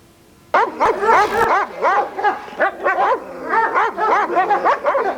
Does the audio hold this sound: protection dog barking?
yes